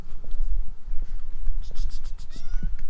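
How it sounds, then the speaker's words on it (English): A fat little cat meows in a few short plaintive calls, close by, mixed with a person talking and handling noise. "There's a cat!"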